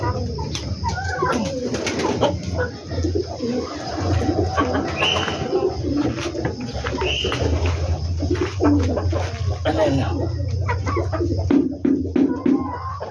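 Pet pigeons coo repeatedly at close range, their soft rolling calls overlapping in uneven bursts, with occasional fluttering and other bird chatter around.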